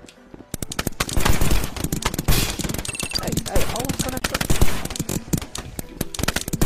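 Rapid pistol gunfire in the Rec Room video game, sharp repeated shots in dense bursts with brief pauses, loud and close, mixed with game action noise and no clear talk.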